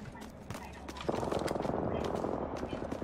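Dense bursts of gunfire and grenade explosions in the video game Apex Legends build into a continuous rattling barrage, with a voice talking over the top.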